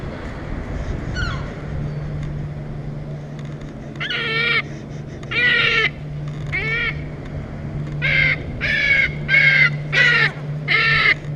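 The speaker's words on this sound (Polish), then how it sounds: "Motocyklista zauważa na drodze chorą mewę" A sick gull on a road gives harsh, repeated calls in bursts, some single and a quick run of several near the end, over a steady low motorcycle engine hum.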